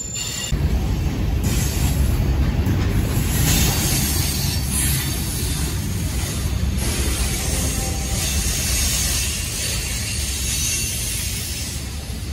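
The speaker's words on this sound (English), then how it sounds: "We got a train right now." A manifest freight train rolls past close by in Roseville, a loud continuous rumble with high wheel squeal and rail noise throughout.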